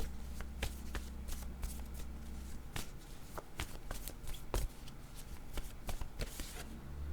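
Playing cards shuffled and drawn for a tarot-style card reading, with a steady riffling texture broken by sharp card snaps and slaps at irregular intervals, close and fairly loud, no talking.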